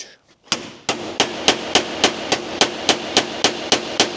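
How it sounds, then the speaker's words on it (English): Small hammer striking the end of a bolt on a supercharged Mini, about a dozen sharp metallic blows at a steady rhythm, loud and close after a brief quiet start. "Need a little hammer."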